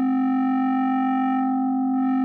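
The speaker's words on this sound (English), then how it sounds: "if you increase the drive, you can see it pushes up the amplitude of everything and creates some distortion" Frequency shifter audio effect with the drive raised, a loud sustained buzzy tone rich in harmonics, steady and alone, with a slight dip and shift near the end.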